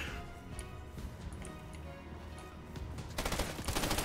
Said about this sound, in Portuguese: deu um tiro em mim